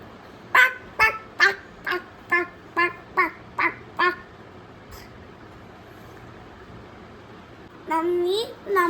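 A voice imitates a duck, giving about nine short, evenly spaced nasal quacks, then a pause and one longer drawn-out quack at the end, all close to the microphone.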